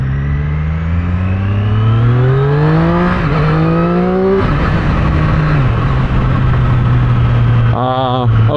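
A 2024 Triumph Street Triple 765RS motorcycle engine rumbles loud and close, rising in pitch through gears, dropping back to a steady drone, then revving again briefly at the end.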